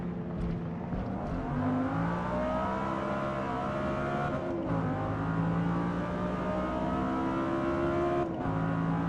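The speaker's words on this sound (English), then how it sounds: "This is the 5-litre V10," A 5-litre V10 race car in Gran Turismo 7 revving high and steady, with rising and falling engine pitch through a few gear changes, loud and continuous with no voices.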